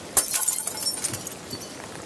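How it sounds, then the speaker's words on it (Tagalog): A clay flower pot breaks with a single sharp crash and shatter near the start, followed by scattered fragments settling and faint rattles, indoors with no talk. "Parang narinig kong may nabasag na paso."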